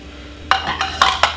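A few sharp knife taps against a cutting board as an apple is cut into small pieces, four close chops in quick succession, nearby with no talking.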